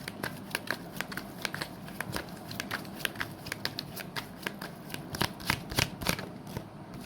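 A deck of tarot cards shuffled by hand produces a rapid, continuous run of crisp riffling flicks and slaps, close and fairly loud, with no talking.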